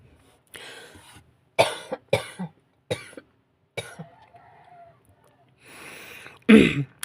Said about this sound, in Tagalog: may ubo kasi ako ngayon